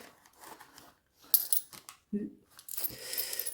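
Small coins taken out of a budget binder clink and rattle in a few short bursts, fairly close and quiet, separated by brief pauses.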